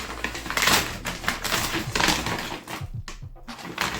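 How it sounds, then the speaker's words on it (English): Action figure packaging ripped open by hand, a run of loud, close crackling and tearing of cardboard and plastic in uneven bursts, with a brief pause near the end. "Do I need to knife this one? Probably not. We can just rip it open."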